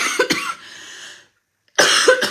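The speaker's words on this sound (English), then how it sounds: "excuse me, I have to cough." A person coughs in sharp, close bursts, a couple of hacks, a short pause of silence, then another pair of harsh coughs.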